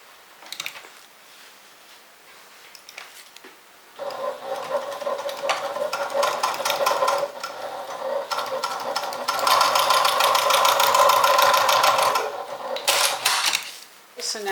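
Sewing machine stitching fabric for a makeup and toiletry vanity bag, a soft hand-handling rustle first, then bursts of fast mechanical whirring that run longer and louder toward the end.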